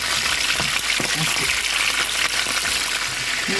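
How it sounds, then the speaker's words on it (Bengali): Quail meat lightly frying in oil for a bhuna, giving a steady broadband sizzle with a few soft stirring knocks, close and continuous throughout. "আমি জাস্ট এটা হালকা ভেজে নিলাম, এখন একটু ভুনা করে ফেলবো।"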